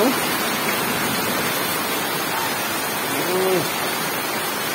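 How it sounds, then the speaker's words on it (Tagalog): Heavy rain roars in a dense, constant wash with a faint voice briefly audible beneath it. "Grabe lakas ng ulan"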